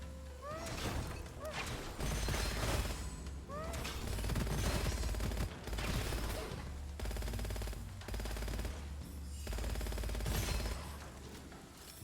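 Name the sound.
gunfire in the video game Gunfire Reborn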